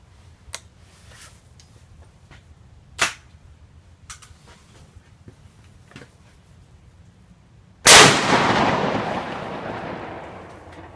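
A Hatfield SGL single-shot 12 gauge shotgun fires old Winchester Super X 2 3/4 inch nine-pellet 00 buckshot outdoors: a few faint clicks, then one loud close blast with a long rolling echo.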